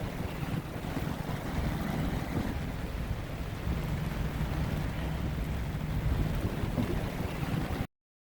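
A small boat runs on the water while rain falls, producing a steady rumbling engine and a wash of rain and wind noise that holds evenly before cutting off abruptly.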